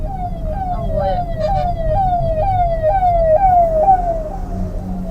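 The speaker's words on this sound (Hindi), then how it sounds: "फायर ब्रिगेड, जहाँ भी आग लगी हो बुझ जाए" A fire brigade siren wails on a highway in a loud, rapidly repeating rising-and-falling sweep, close by, over the rumble of road traffic.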